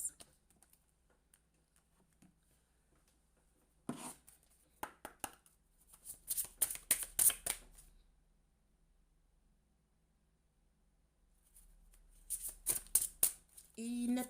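Cards being shuffled and swapped during a tarot-style reading, close crisp riffling and flicking in short bursts separated by long quiet gaps.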